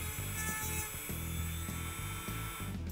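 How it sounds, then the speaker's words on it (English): Steady grinding of excess metal from a Winchester 1885 Low Wall rifle part during a rimfire-to-centerfire conversion, a continuous close, high-pitched whine with a faint rhythmic pulsing underneath. "Then carefully grind off the excess."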